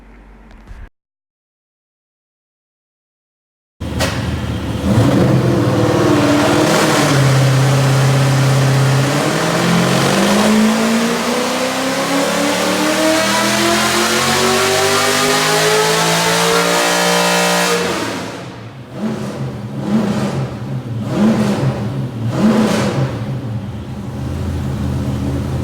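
A drift car engine revs loudly and steadily during run-in, pitch climbing through sustained high revs before dropping off into a few shorter blips.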